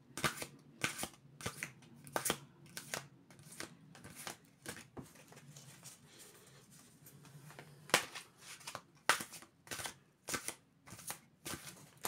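Oracle cards are shuffled by hand in a steady series of crisp riffling bursts, close and clear with no talk over them.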